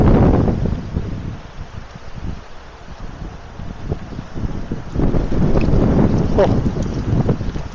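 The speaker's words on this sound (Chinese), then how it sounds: "风突然大了起来" Strong gusts of wind sweep through roadside trees in a village during a bike ride, rustling and tossing the leaves. Wind roars and buffets the microphone, easing slightly in the middle, then surging louder and steadier in the second half, with one short exclamation.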